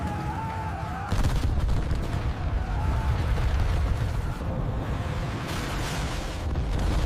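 Sustained rumbling fire from the eight machine guns of a P-47 Thunderbolt fighter, a continuous dense roar with slight swells and no clear separate shots.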